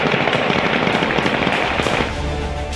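Dense celebratory gunfire from Taliban fighters at Kabul airport at night, rapid overlapping cracks and bursts filling the air without a break, loud and close, thinning slightly toward the end.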